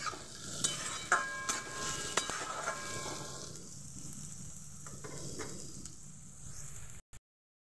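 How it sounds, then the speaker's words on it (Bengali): Onions and whole garlic cloves sizzle quietly in a pan, with a soft continuous frying hiss and a few scattered stirring clicks early on, the sizzle thinning out before ending abruptly. "এই পেঁয়াজ ভাজার সময় আমি গোটা রসুন দিয়ে দিচ্ছি।"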